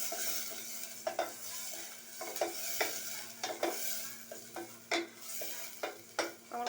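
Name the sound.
onion and garlic frying in oil, stirred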